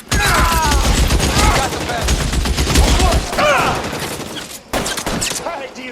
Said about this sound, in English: Somebody put some fire on that guy!